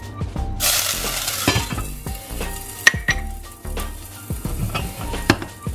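Anchovies sizzle and crackle loudly in hot oil, with a burst at the start and occasional clinks of a pan and lid.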